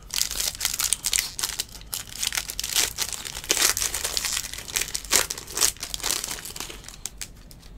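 Foil wrapper of a 2015 Topps Premier Gold soccer card pack being torn open, a steady close crinkling and crumpling with sharper tearing bursts throughout, no talking.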